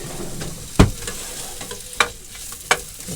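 Onions sizzle in a pan inside a motorhome as a stirrer scrapes through them, with three sharp clacks of the utensil against the pan over a steady low fry.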